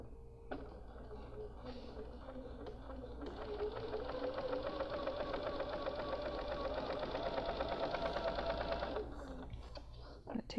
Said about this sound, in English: I'm going to come to the machine, place my right sides together with a drawn line on the outside, and I'm going to stitch a 1/4 inch